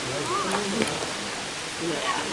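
Waterfall at Fall Creek Falls, Tennessee, heard as a steady broadband rushing roar beneath voices talking nearby.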